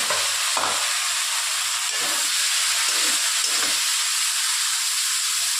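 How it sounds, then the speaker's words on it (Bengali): Chopped garlic, onion and tomato fry in a hot pan, making a loud, continuous hiss and sizzle with rhythmic stirring swells every second or so. "এবার আমি কুচিয়ে রাখা রসুনটা, পেঁয়াজটা, টমেটোটা ভেজে নিই।"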